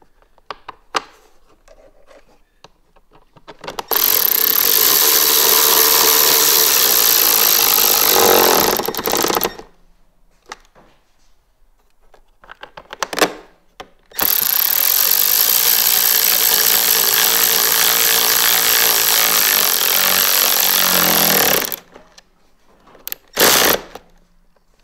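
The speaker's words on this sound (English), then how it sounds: "Now we have two more screws to install here." Power screwdriver driving screws into a side panel on a 2023 Ski-Doo Expedition SE 900 Ace Turbo snowmobile, two long loud whirring runs separated by quiet handling clicks.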